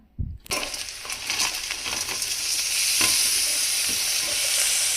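Potatoes and egg noodles hit a hot pan with a sudden loud sizzle, then keep frying in a bright steady hiss under scattered scraping stirs and light knocks, with no talking.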